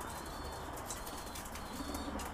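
Pigeons in a loft, including red-feathered birds, give soft, low cooing mixed with brief wing flapping and faint chirps. The sounds are quiet and close, with no talking.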